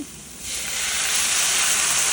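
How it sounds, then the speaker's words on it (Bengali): Half a cup of water poured onto spices frying for a garlic-flower and dry-fish dish sets off a sudden loud hiss of sizzle and steam that swells after a quiet start and holds steady, with no talking. "নাড়াচাড়া করার ভাজা ভাজা ফ্লেভার আসলে তার মধ্যে আমি হাফ কাপ পানি দিয়ে দেব"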